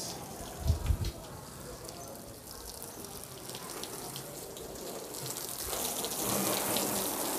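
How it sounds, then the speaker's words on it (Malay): A water hose sprays a car from top to bottom during a hand car wash, giving a steady hiss of spray with a few louder splashes near the start, picked up at a moderate distance. "So langkah pertama selalunya ialah bagi air untuk keluarkan kesan kotoran, abuk-abuk daripada atas ke bawah."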